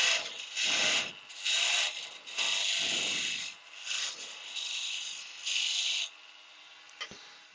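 Copper pipe fitting being turned down to 15 mm, a dry scraping, rasping cut coming in several bursts of about a second each with short pauses, close and fairly loud, plus a small click near the end.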